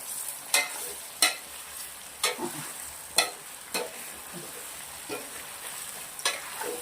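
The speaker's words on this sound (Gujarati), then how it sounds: "હિંગ નાખ્યા પછી નાખી દેવાના છે આપણે મુઠિયા સરસ મજાના કરી દેવાના છે મિક્સ" Grated bottle gourd muthiya being stirred through a hot oil tempering with asafoetida, giving a soft steady sizzle broken by about eight distinct scrapes of a spoon against the pan, close up and with no voices.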